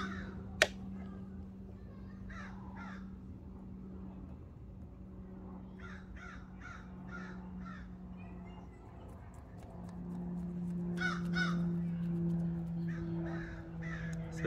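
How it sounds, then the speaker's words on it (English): Several crows caw outdoors in short, repeated bursts of harsh calls with pauses between, set over a low, steady hum. "Sorry about the crows, I think they're probably coming to get me or something."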